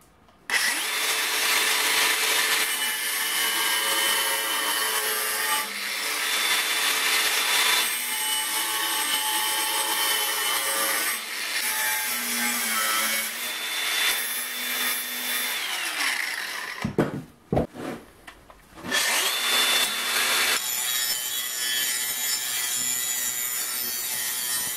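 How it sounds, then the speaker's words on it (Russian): A power tool grinds the corners off a scrap steel water pipe, a loud, continuous, harsh cutting roar that runs almost without break, with a brief stutter and pause before it resumes. "Здесь нам нужно срезать углы приблизительно вот так, с одной стороны и со второй."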